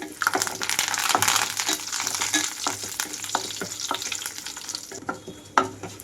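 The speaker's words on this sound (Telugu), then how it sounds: "ఇక్కడ మనకి వేసిన తాలింపు గింజలు చక్కగా చెట్టపటం అనే వరకు ఉంచాలి నేను లో ఫ్లేమ్లోనే ఉంచి వేయించుకుంటున్నానండి" Tempering seeds such as chana dal frying in oil in a pan over a low flame, a steady close sizzle broken by small pops and crackles throughout, with no talking.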